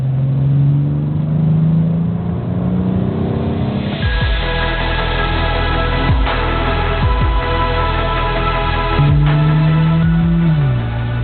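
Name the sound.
BMW 840i Gran Coupe engine revving in Sport Plus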